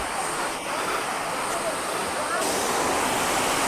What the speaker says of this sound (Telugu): ఈ వాటర్ ఫాల్స్ ఇక్కడ పైనుంచి కాలువలో నుంచి వస్తున్నాయి వాటర్